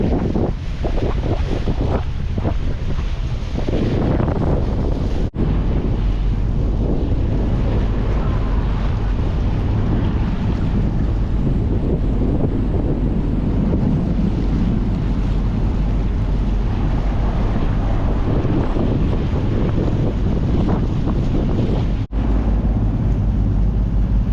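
A sailboat moves under wind on open water, with steady loud wind buffeting the microphone and water rushing against the hull throughout, continuous and close, with no voices.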